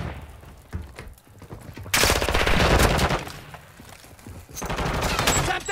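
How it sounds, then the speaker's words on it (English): Flash grenade and gunfire in Modern Warfare 2 multiplayer: a loud bang gives way to a sustained burst of rapid gunfire, with a second volley of shots toward the end. "Throwing flash grenade!"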